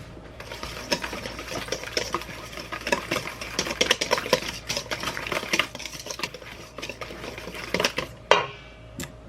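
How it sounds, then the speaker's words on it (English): Whisk clattering rapidly against a bowl while mixing flour-type dry ingredients with half a teaspoon of salt, a dense run of quick metallic taps and scrapes, close and fairly loud, ending in a couple of sharper knocks. "And then I'm just going to whisk that."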